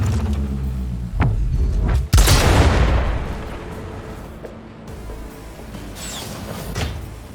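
Incoming gunfire and explosions in the video game Cyberpunk 2077: a heavy booming blast followed by a long rumbling decay, with scattered shots and thuds around it, loud and close.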